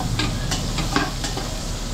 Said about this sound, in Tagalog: Ito yung pagigisa natin. Muna natin yung ating luya. Sabay na natin yung bawang.